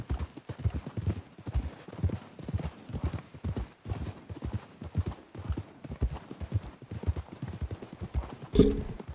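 Horse hooves clop in a quick, steady galloping rhythm in the video game Red Dead Redemption 2, with people talking over them, and a horse briefly whinnies near the end.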